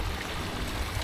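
Water gushes from a pump into a newly built garden pond, filling it from the bottom, a continuous dense splashing rush, close and steady throughout the brief moment, with no talk.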